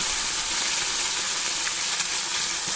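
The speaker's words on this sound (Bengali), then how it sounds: "মৌরলা মাছগুলোকে খুব ভালো করে আমি লাল লাল করে ভেজে নেব" Small mourola fish coated in salt and turmeric fry in hot mustard oil, giving a loud, steady, dense sizzle with no pauses and no voices.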